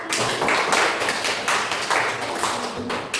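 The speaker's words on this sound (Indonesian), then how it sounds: "tepuk tangan untuk" Applause from a classroom or school group welcoming the third discussion group, steady and fairly close, a dense run of hand claps lasting a few seconds with no pause.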